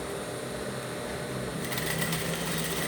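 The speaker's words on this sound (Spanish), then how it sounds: "vamos a sobrepisar aquí la costura un momentico" A sewing machine topstitches over a seam on women's boxer shorts, its steady whirring motor running continuously and growing a little louder and busier partway through.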